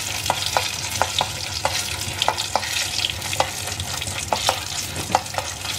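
Dried turkey berries fry in sesame oil with a steady crackling sizzle, punctuated by regular sharp clicks of a spoon stirring the pan, and no voices.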